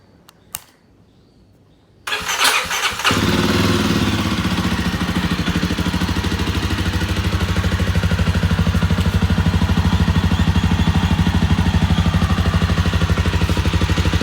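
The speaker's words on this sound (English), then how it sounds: "इस exhaust sound की feel बहुत अलग है." A Jawa Perak motorcycle engine fires up after a brief quiet moment, then runs steadily with a loud, deep exhaust note and a continuous rumble close by.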